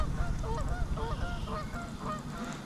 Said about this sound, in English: A lot of geese out here.